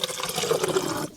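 Distilled water pours steadily from a container, a continuous close liquid splash lasting about a second while preparing a 70% ethanol solution, with no talk.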